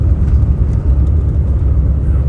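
Vanagon Syncro engine downshifting out of fourth gear on a slow, snowy winter hill, a loud, steady low drone and rumble heard from inside the van, with no talking.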